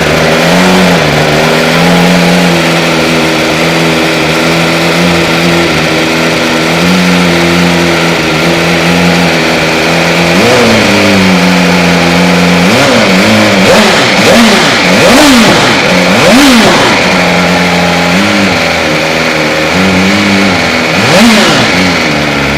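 A BMW car engine started and idling loudly nearby, then blipped through a run of quick throttle revs in the second half, each rev rising and dropping back to idle, with no talk.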